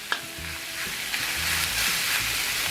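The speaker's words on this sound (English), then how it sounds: "I know you guys love watching that bacon sizzle" Bacon and pork belly fry with a steady, close hiss of sizzling fat, punctuated by a few light clicks and scrapes of stirring, with no voices.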